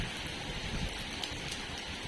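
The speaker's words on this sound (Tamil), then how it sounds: "அவ்வளோக்குள்ளே அப்படியே மழையும் பெஞ்சிட்ருக்கு" Steady rain falls during Cyclone Ditwah, a dense, even hiss of drops on surfaces that continues unbroken and fairly close.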